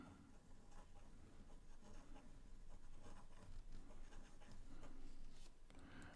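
A fountain pen with a Lanbitou M nib on a Wing Sung 6359 scratching across paper, a faint continuous close-up rasp of strokes with varying pressure and no talk.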